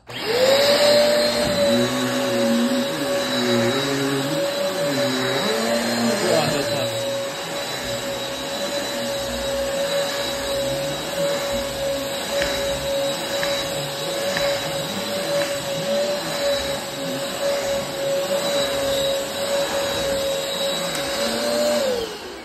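A Eureka Airspeed One vacuum cleaner runs steadily with a loud whining motor tone and rushing airflow, its pitch dipping slightly at the start, then holding constant.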